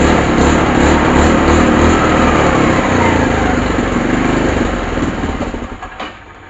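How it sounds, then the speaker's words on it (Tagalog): A Kymco Super 8 scooter with a replaced CDI runs after a kick start, its small engine giving a loud, rattly buzz that holds steady and then winds down and fades toward the end. "Isang tadyak lang ang garagan."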